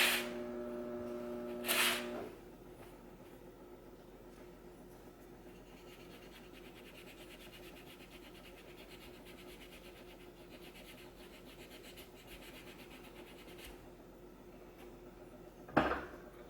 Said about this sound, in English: And I'll hit her with a little 800 sandpaper.